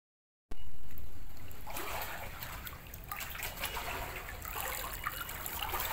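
Rainwater trickles and swirls through a flooded city lane after heavy rain, a faint, steady watery flow with no one talking.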